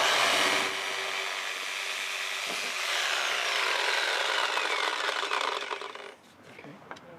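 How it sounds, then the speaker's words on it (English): A reciprocating saw cuts through a 6x6 wooden beam during porch railing installation, giving a loud, continuous rasping buzz that fades and stops near the end. "I'm just going to finish off with the reciprocating saw"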